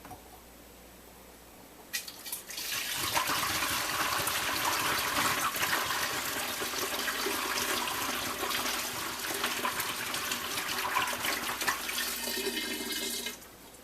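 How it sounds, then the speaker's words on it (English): A steady rushing pour of very hot sugar water (sugar syrup) starts after a short quiet moment and continues loudly for about eleven seconds before cutting off, with no talking. "5 pounds of sugar to whatever water it takes to make it liquidy. And we're going to pour that in."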